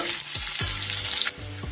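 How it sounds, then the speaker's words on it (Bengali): Onions sizzle steadily in hot oil with a bright hiss, interrupted by a few stirring scrapes and soft knocks of a spoon. "পেঁয়াজটা একটু ভালো করে ভেজে নেব"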